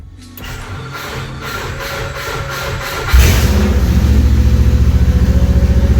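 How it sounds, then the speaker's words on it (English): A Subaru STI rally car with an open header and no exhaust cranks over and fires, settling into a loud, raw, steady idle with a throbbing pulse. "She's open header right now, there's no exhaust."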